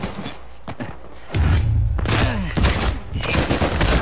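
Gunfire in an Uncharted 4 multiplayer match: sharp close shots and a burst of rapid fire with heavy thuds and booms, dense and loud, with scattered impacts before and after.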